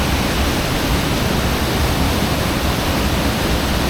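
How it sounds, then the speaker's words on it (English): Heavy, unbroken roar of a Yorkshire waterfall at Wensley throwing off thick spray, a dense, steady wash of rushing water heard close and loud with no pauses. "there is a lot of spray coming off the waterfall"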